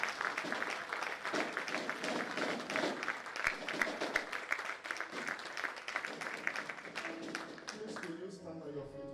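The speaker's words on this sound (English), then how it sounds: "If it's for God, you will clap better." A church congregation claps in a fairly even, sustained patter that fades near the end, heard faintly and at a distance with some voices mixed in.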